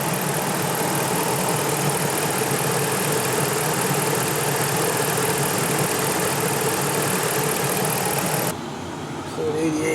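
A 2009 Dodge Ram 1500 pickup's engine idles steadily while warming up during a coolant flush, a continuous broadband rumble that runs unchanged for most of the span and then drops away abruptly near the end.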